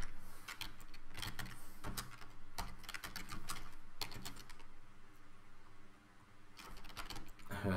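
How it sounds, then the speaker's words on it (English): Typing on a computer keyboard, a string of crisp clicks and taps in uneven bursts with short pauses, fairly quiet and close, with no talk. "let me type"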